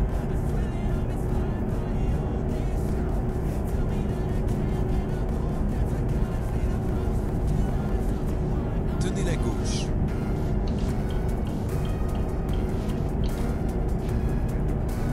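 A Ford truck engine droning steadily while driving in Euro Truck Simulator 2, a continuous loud low rumble with road noise throughout, and a voice briefly speaking over it.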